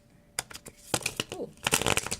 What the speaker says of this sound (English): when you shuffle the deck, it's so easy and it feels so good in my hands